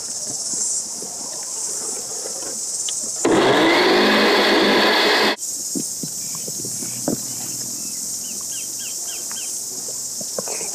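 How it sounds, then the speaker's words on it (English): A blender whirs through raw vegan chocolate pie filling in one loud, steady burst of about two seconds, rising sharply out of a quiet kitchen background and cutting off abruptly. "And now we just need to blend it."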